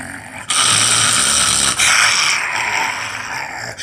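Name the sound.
storyteller imitating a dog growling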